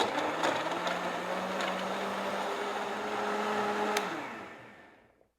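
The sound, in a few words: blender mixing a meal-replacement shake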